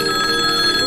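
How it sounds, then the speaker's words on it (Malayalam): A telephone ringing, a bright electronic ring tone heard loud and close in one short continuous burst. "ഫോൺ ബെല്ലടിക്കുന്നു."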